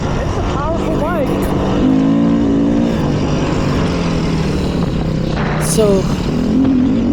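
A 2020 Beta 500 RR-S dirt bike rides through the desert, its engine droning steadily with rising and falling revs close to the microphone while someone talks over it.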